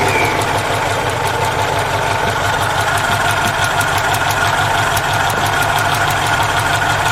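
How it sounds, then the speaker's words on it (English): A car engine idles steadily and fairly loudly for the whole stretch, with a constant low rumble and a faint knocking rhythm and no voices over it. "start engine."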